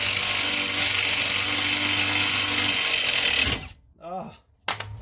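An impact wrench removes front suspension bolts on a Ford Excursion, hammering loudly and continuously for several seconds before cutting off, followed by a brief voice and a sharp clank.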